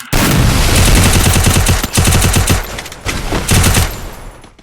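Rapid automatic bursts from a UMP submachine gun and Desert Eagle pistol shots in a video game custom match, loud and close, with several strings of fire separated by brief pauses.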